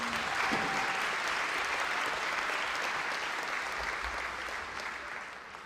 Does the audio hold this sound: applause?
yes